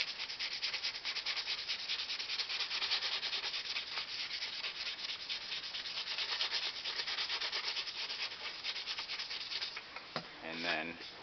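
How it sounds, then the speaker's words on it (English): Sanding a fiberglass RC model cowling by hand: continuous close, dry, raspy scratching with a rapid back-and-forth rhythm, steady and loud throughout, with a brief shift in texture near the end. "I'm going to keep sanding,"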